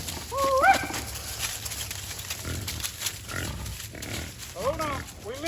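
Pigs grunt and squeal while being driven into a newly set up paddock, with short bursts over a low rumble and a person calling to them throughout.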